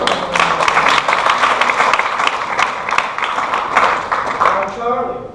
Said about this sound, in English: I get a round of applause for Charlie